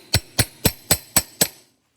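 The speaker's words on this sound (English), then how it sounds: "I'm simply just going to take my ball peen hammer and I'm just going to give that a wee tap" Six sharp metallic taps of a ball peen hammer on a rivet, evenly spaced and close, each with a brief ringing decay, the last fading into quiet.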